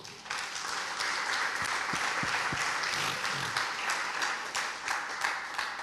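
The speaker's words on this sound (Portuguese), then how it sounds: "Vamos aplaudir o Senhor?" Sustained congregational applause fills a church service, dense and steady throughout, with a few isolated low thumps near the start.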